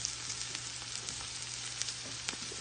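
Onions and garlic fry in a pan until browned and caramelized, giving a steady, soft sizzle with faint crackles and pops scattered throughout.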